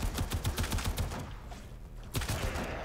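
Primary weapon fire in Warframe: a quick, evenly spaced string of close shots for about a second, a short lull, then another burst.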